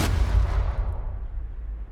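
A booming explosion in the tactical shooter Rainbow Six Siege hits hard and then rolls away into a long, fading rumble, loud and close with no talk.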